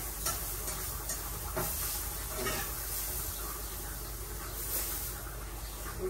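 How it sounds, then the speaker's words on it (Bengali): Fish frying in oil in a pan, heard as a steady, close sizzling hiss with occasional soft stirs and spatters on top and no one talking. "এই যে এখানে মাছটি ভেজে নিচ্ছি আগে"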